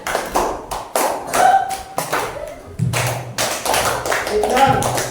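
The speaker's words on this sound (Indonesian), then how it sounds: "tepuk tangan untuk kelompok 3" A classroom of students clapping for a group after its presentation, in short rhythmic bursts of sharp, moderately loud claps, with voices talking between them.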